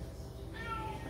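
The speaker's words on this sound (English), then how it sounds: "And I apologize for my cat in the background." A pet cat meows in the background, a short whiny call rising clearly over a steady low hum in a quiet indoor room.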